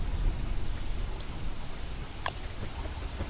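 Rain pouring down in the survival game Don't Starve, a dense, steady hiss of falling water with a soft rumble underneath, continuous and fairly close.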